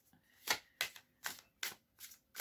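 Archangel tarot cards are shuffled close up, giving six crisp, evenly spaced papery riffle bursts at a steady rhythm, fairly quiet with no talking over them.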